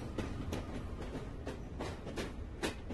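Inside a moving passenger train, rumble fills the carriage and rhythmic clickety-clack wheel beats repeat every half second or so at close range, with no one speaking.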